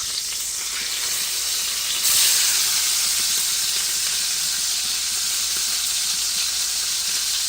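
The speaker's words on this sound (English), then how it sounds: "So I am basically frying it in the bacon grease." Beef frying in bacon grease in a pan, a steady bright sizzle and hiss that swells a little partway through and keeps going, close up and with no talking.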